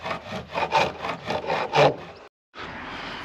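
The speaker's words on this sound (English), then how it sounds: "Just chamfer the edge off a little bit." Wooden chair part on a pole-lathe and shave-horse setup having its edge chamfered, giving a run of close, rhythmic rasping strokes with wood friction, then a brief pause before a steadier scraping texture.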